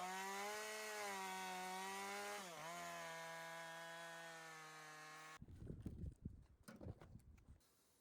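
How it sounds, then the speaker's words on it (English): A chainsaw drones loudly at high revs, then bites into a black locust root with rough, uneven grinding and rasping bursts. "I make a rough cut with the chainsaw."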